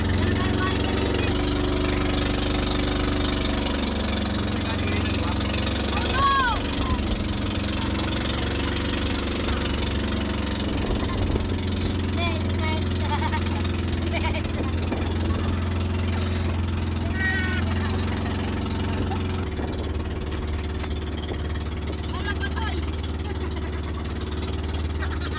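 A motorized bangka boat engine runs steadily near Cuenco Island, a continuous droning hum at an even pitch throughout, with people talking over it now and then.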